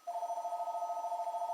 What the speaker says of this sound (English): sorry for the ringing phone in the background,